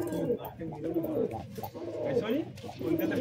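Madrasi pigeons, a Kolkata high-flying breeding pair, coo in low, rolling phrases that repeat close by over a steady background murmur.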